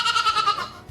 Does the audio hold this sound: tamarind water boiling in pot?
no